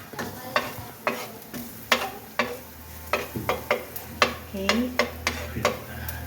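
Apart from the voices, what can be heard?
crushed garlic sizzling in a pan for milkfish sarciado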